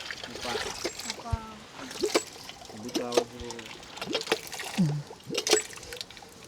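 Muddy water from a hand pump well splashes and pours in uneven spurts, mostly masked by people talking close by throughout.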